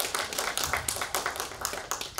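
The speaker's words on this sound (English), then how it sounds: "Please give him a round of applause in his absence" Audience applause at a nominees reception, a steady patter of many hands clapping together at moderate loudness for a couple of seconds, with no talk over it.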